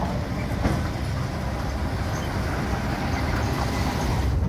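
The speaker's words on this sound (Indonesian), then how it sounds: "Lokomotif diesel Hokuriku C." A Hokuriku C diesel locomotive at the Rendeng sugar mill gives off a steady, dense mechanical rumble, idling close by with a continuous low drone and no break in level.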